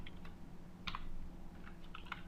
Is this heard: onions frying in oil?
no